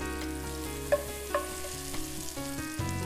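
Tomato slices sizzling in a pan of bacon grease, a soft steady fry with a few light clinks and stirs, close and quiet under faint music.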